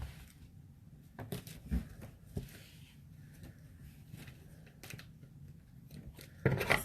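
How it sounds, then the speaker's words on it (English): Scissors trim a piece of plastic for a fabric bag, giving a few faint, sparse snips and crinkles against a quiet background, with a louder rustle near the end. "so I'm going to trim this plastic a little bit because we don't want that to touch our other one."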